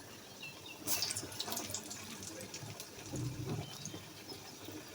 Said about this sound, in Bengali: তেল গরম হয়ে গেছে, এখন আমি দিয়ে দিব পেঁয়াজিগুলো।